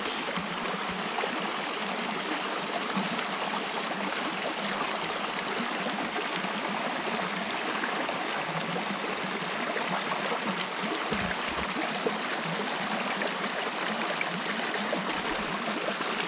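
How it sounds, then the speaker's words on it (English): Calm stream water flowing steadily, a continuous close rushing trickle and gurgle with no speech. "En ons kyk na die rustige water."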